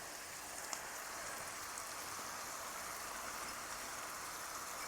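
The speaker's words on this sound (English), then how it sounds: "Then we just saute this until it's all softened, the onions and the garlic." Onions and garlic saute in a pan beside a wood-fired oven, giving a faint, steady hiss and crackle that holds evenly for a few seconds with no voices.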